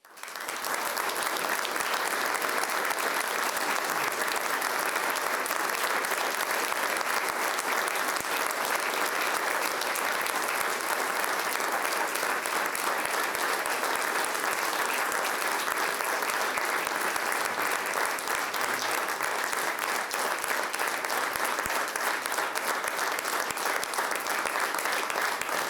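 Loud, sustained audience applause fills a ceremony honoring a recipient as Officer of the French National Order of Merit, dense steady clapping continuing without a break for the whole stretch.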